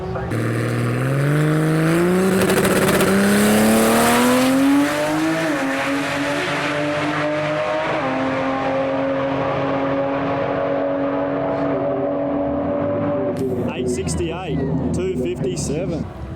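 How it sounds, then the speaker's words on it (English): A Ford Falcon XR6 Turbo radial drag car with a 4-litre Barra engine revs loudly and climbs through its gears at close range, holding a sustained roar before fading, with faint talk at the end. "Ford Falcon XR6 Turbo, 4-litre Barra."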